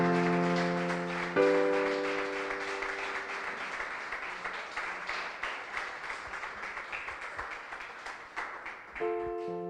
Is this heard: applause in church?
yes